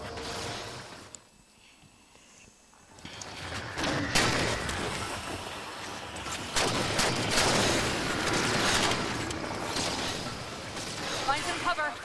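Enemy gunfire in the sci-fi shooter Halo 4, bursts of shots and explosive impacts after a brief quiet moment, dense combat noise continuing throughout.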